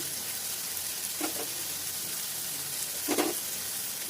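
Coriander, turmeric, ginger and garlic frying in a pan give a soft steady sizzle, with two brief louder bursts of stirring or scraping rising above the hiss.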